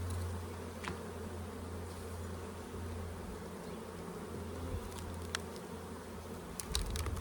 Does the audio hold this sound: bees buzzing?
yes